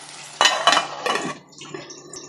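A lid goes onto a cooking pot of simmering liver and lung curry, giving a few close metallic clinks and clatters in quick succession that then fade out.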